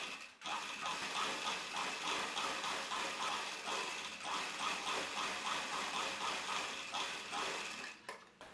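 A sewing machine running a double line of stitching on a cowl neck top, with a continuous rhythmic mechanical whirr and clatter at close range that stops briefly near the end.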